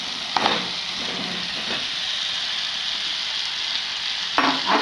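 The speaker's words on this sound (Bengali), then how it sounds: "আলুগুলো দিয়ে আমরা ভালো করে নেড়ে চেড়ে দেবো।" Potatoes stirred into hot spiced oil for a vegetarian aloo dum: a steady, bright sizzle of frying with a few scraping spoon strokes at the start and end, no voices.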